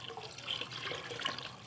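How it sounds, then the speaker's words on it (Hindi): Clean water poured into a container during gold recovery from cellphone circuit boards, giving a soft, continuous trickling and splashing that stays steady and close throughout with no voices. "और अब इसमें हम थोड़ा साफ पानी भी डाल देते हैं"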